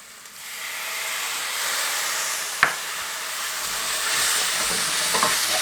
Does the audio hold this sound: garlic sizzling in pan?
yes